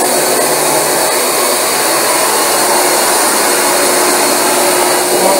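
A Rug Doctor carpet cleaning machine runs close by with a steady, loud motor and suction roar that holds evenly from start to finish, with no talk over it.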